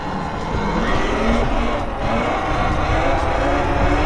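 A Talaria Sting R electric dirt bike pops a wheelie on a ride to the beach, its steady motor whine and tire roar blending with loud, continuous wind buffeting close to the rider, with no talk.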